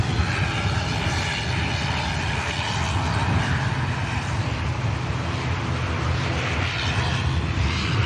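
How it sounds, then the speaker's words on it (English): A Boeing Dreamliner departs Manchester Airport, its jet engines giving a broad, continuous roar that stays loud and steady throughout. "Here's a Dreamliner lined up."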